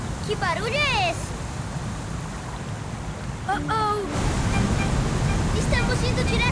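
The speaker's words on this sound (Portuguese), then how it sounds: "Estamos indo direto pra cachoeira!" A cartoon waterfall roars ahead as a steady, loud rushing wash of water noise, with excited voices talking over it throughout.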